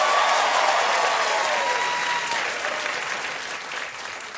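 A late-night television studio audience applauds, a dense, loud wash of clapping and cheering with a few whoops, slowly fading toward the end.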